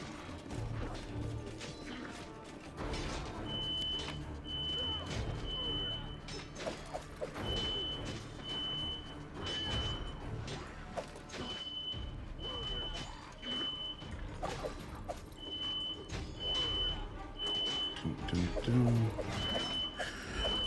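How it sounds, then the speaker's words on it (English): Repeated electronic beeping from a kitchen appliance while someone cooks, sounding in intermittent runs of short, evenly spaced tones far in the background beneath clattering video game sounds and someone talking. "If you all can hear a bunch of beeping in the background, I apologize."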